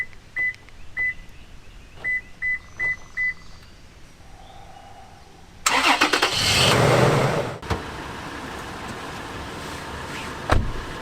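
5th Gen Toyota 4Runner remote started with a Start-X system: a series of short electronic beeps, then the engine cranks and catches with a loud surge settling into a steady idle, close by.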